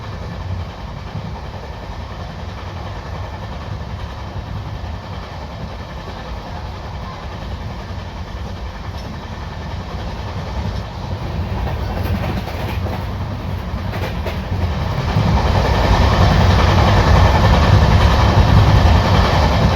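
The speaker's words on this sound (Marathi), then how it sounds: "या ठिकाणी एका स्पेशल ट्रेनला आपली गाडी ओव्हरटेक करत पुढे जात आहे" Deccan Queen Express running at high speed between Pune and Mumbai, a steady loud rumble of rail wheels and carriage noise that grows louder near the end, with no talking.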